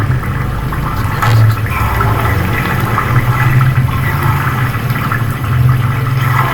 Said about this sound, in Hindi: आँच नीचे से तेज़ करके पानी इसका खुश्क करेंगे।